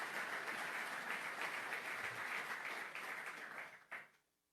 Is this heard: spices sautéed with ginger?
no